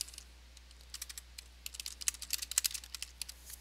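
Fingers typing quickly on a computer keyboard, with soft, close, irregular clicks in short bursts.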